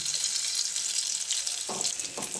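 An egg and raw potato mixture hits hot oil with a loud, steady sizzle, and a few brief spatula scrapes come near the end.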